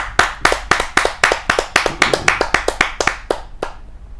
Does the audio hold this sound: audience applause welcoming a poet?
yes